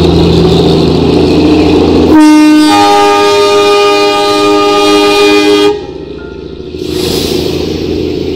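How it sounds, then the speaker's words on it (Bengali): Darjeeling's famous toy train passes close by, sounding a long, loud horn blast that holds for several seconds before cutting off, with rumbling rail noise before and after. "আমরা আমাদের বেলকুনি থেকেই দার্জিলিং এর সব থেকে ফেমাস টয় ট্রেনের দেখা পেয়ে গেলাম।"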